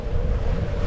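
Wind rushes and waves wash around a sailboat under way in the Gulf of Fréjus near Saint-Tropez, a loud, continuous roar with heavy low rumble and no voices.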